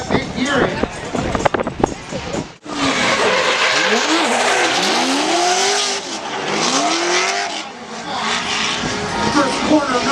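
Drift cars, one a Chevy, slide through a corner at competition with engines revving hard and rising and falling, tires hissing and squealing loudly over a continuous roar, a brief sharp crack early on.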